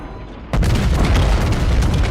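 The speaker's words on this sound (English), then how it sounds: "All stations, concentrate fire on the target." Battleship U.S.S. New Mexico guns fire in World of Warships, a sudden heavy boom breaking a quiet hum and rolling into a sustained loud rumble of naval gunfire.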